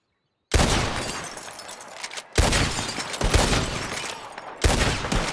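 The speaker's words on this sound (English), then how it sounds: "The one who shoots the most bottles wins." Gunfire in Red Dead Redemption 2 during a bottle-shooting contest, with three loud, sharp shots spaced a couple of seconds apart, each followed by a crashing burst of shattering glass and a lingering ring.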